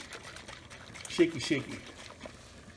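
Liquid pours into a rice cooker pot while someone talks over it, with a short gurgling splash and trickle in the middle of the pour.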